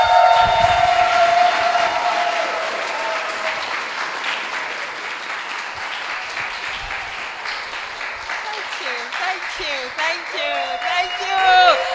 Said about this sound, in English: I want this to be a resounding applause